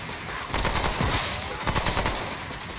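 Boss Barbus blasting away with his shotgun in Remnant: From the Ashes, a rapid string of loud overlapping gunshots in a dense fusillade throughout, with no talk.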